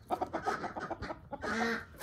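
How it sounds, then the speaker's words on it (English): A Silkie chicken clucks close up in a backyard coop, a quick run of short clucks followed by a longer drawn-out note. "There's Rudy, the Silky"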